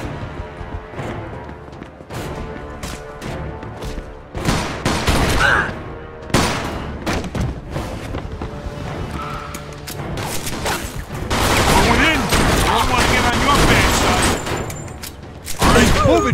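Dense gunfire from the video game Mafia II, with sustained automatic bursts and heavy shots rolling almost continuously over a loud, busy battle mix.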